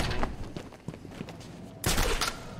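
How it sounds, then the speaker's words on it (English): Fireworks in the video game Batman: Arkham Asylum pop and crackle in a rapid burst of sharp reports, fading to scattered cracks before a louder, dense volley erupts near the end. "Fireworks. What's there to celebrate?"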